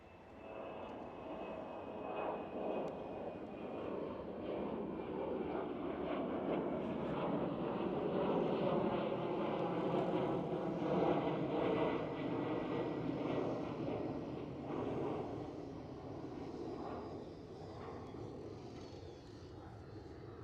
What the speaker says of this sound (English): Right over here we do have Saudia Airbus A330 passenger to freighter configured aircraft, and German Airways E190.